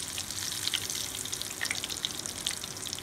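Chicken mayo balls frying in a pan after being turned to the other side: steady close sizzling with scattered crackles and pops, no talking.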